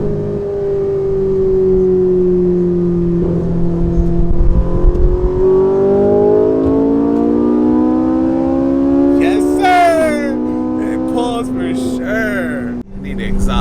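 A Ferrari 458 engine revs hard as the car pulls away, its note climbing steadily through the gears into a high wail. A brief excited voice whoops over it near the end.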